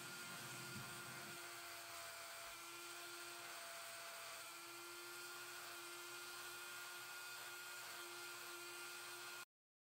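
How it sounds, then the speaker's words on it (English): A Dremel rotary tool with a drum sanding bit shaping a wooden rat wakebait lure: a continuous high-pitched whine with steady abrasive grinding, loud and close, cutting off abruptly at the end. "I put the drum sanding bit back in the Dremel, and I just removed material until I liked the shape more"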